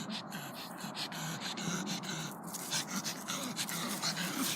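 Pug dogs pant rapidly with occasional soft whimpers, close and fairly quiet, during a nighttime routine at home.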